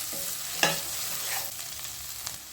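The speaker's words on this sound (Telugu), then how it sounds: "అల్లం కూడా పచ్చి వాసన పోయేలాగా వేయించుకోవాలి" Ginger sizzles in hot oil in a pan for egg biryani while a spoon stirs it with a few scraping strokes, a close, steady fry with no voices.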